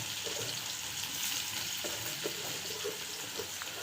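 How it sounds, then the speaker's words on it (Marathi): Cumin and mustard seeds sizzle in hot oil in a home kitchen pan, a steady soft crackling hiss with small pops, fairly quiet and without speech. "जिरे मोहरीचा आवाज येतोय जे मला।"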